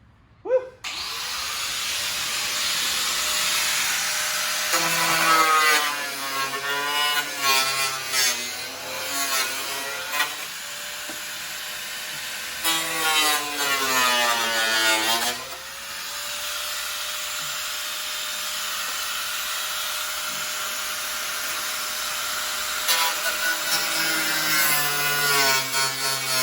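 Power tool cutting through fiberglass car bodywork, a loud continuous whine with rising and falling grinding strokes as the blade bites and eases across the panel.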